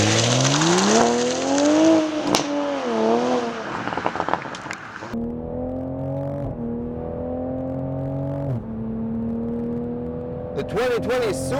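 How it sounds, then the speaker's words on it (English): A 2020 Toyota Supra with a BMW 3-liter twin-turbo six-cylinder engine revs and accelerates on the road, its engine note rising and falling through gear changes, loud and close and then steadier, with someone talking over part of it. "even with a BMW engine under this hood, the car still sounded like a Toyota Supra"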